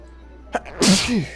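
A single close, sharp sneeze with a quick intake of breath before it.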